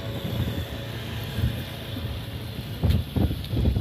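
Gusty wind buffets the microphone outdoors on a seawall in Tabaco City, a rumbling, uneven roar with stronger bursts toward the end.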